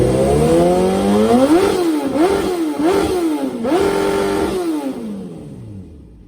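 A 2004 Suzuki GSX-R 1000 motorcycle engine is revved hard in three or four quick, close blips between a steady high idle, then settles back down.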